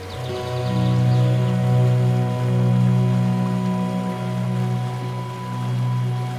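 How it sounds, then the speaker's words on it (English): Water flowing over boulders and cascading into ponds in a water garden, a steady rushing wash with low tonal hum running underneath, continuous and fairly close. "Water flowing over boulders, into streams, cascading into ponds"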